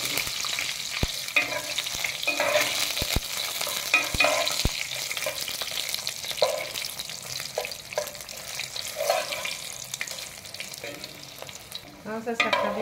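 Chiles and garlic fry in a pot with a steady close sizzle, while a spoon stirs and scrapes against the pot in scattered clinks.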